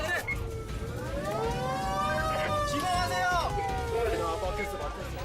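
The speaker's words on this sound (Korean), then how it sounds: "사이렌을 울리며 긴급 출동하는 119 소방차가 좁은 골목길을 지나가느라 애를 먹고 있습니다" A 119 fire truck wails its siren while squeezing through a narrow residential alley, the rising and falling tone loud and steady over engine rumble and street noise.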